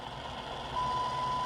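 A faint steady tone from the WWV shortwave time signal station beeps on over a noisy hiss of static, very weak, holding for a moment as a single continuous beep.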